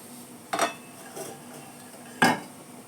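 A metal cooking pot lid lifted and set down, giving three separate clinks, two sharp and one softer, close by against a quiet background.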